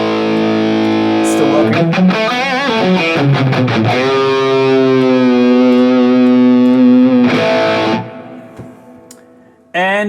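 High-gain distorted electric guitar through a NUX MG30 unit, loud chords and sustained ringing notes with a brief pause and a final stab; someone speaks briefly.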